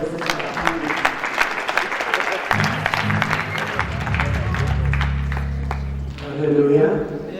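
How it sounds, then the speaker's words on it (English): Guests clap at a wedding reception, a broad crowd round of applause with talk and some low music running underneath, swelling briefly near the end. "Let us give utata a round of applause."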